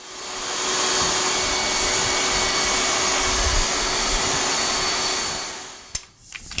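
A vacuum cleaner runs steadily at close range for about six seconds with a constant whine, cleaning up after sanding a drywall skim coat, then switches off and leaves faint clatter.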